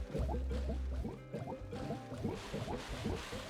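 Crops being watered in the Scrap Mechanic survival game: a quick run of splashy drips and gurgling liquid pours, close and fairly quiet, with no talking.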